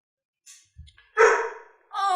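Puppies bark and yip from behind a closed door in a tabletop campfire game session, a few short muffled bursts followed by a louder stretch, with voices talking around them.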